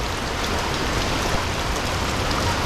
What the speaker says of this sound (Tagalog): Yan ang ulan talaga.